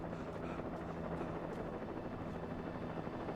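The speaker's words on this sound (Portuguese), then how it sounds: "Agora é helicóptero." A helicopter in the video game Alan Wake sends out a steady, close rotor drone at even loudness, with no other sound on top.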